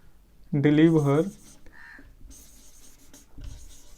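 Chalk or marker scratching across a board during an electrical engineering lecture, with a brief burst of voice first and then a few faint, scattered scratchy strokes.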